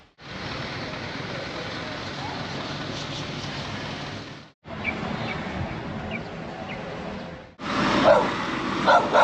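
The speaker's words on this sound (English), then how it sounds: "Oh, packs of wild dogs." A pack of wild dogs barks on a street in Songkhla, Thailand, with repeated yips and barks at middle distance over traffic rumble, broken by two short gaps.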